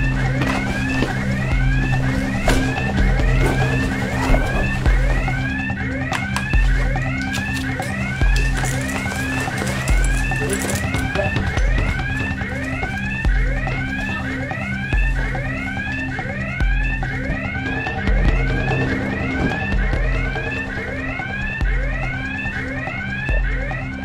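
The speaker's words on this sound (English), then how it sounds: "Hey, alarm go!" Alarm sounding at a NATO air base during an alert that began as a training exercise: a loud, steady repeating warbling wail cycling about twice per second over a constant low drone, with no voices.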